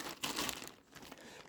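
A dry catappa leaf crinkles and crackles softly up close, with irregular rustling bursts and brief pauses.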